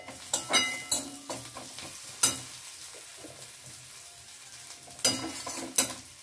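Everest asafoetida powder sizzles in hot oil in a pan while being stirred, with a steady close fry hiss and several sharp scraping strokes of the spoon.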